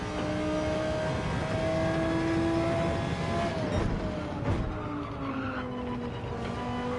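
A Subaru BRZ Group 3 race car in a racing video game, its engine droning with shifting pitch as tyres squeal and skid through corners, continuous and fairly loud, no talk.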